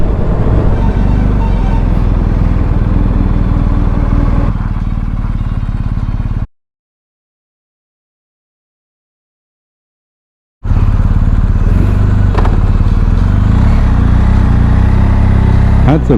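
A BMW R 1250 GSA motorcycle riding on a highway gives a steady, loud engine drone with rushing wind, which cuts to total silence for about four seconds midway before resuming at full level.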